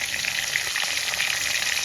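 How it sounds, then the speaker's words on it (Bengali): Katla fish pieces frying in mustard oil in a wok, a steady loud bright sizzle throughout with no talking. "এবার আমি মাছগুলো এক এক করে দিয়ে লাল লাল করে ভেজে নেব।"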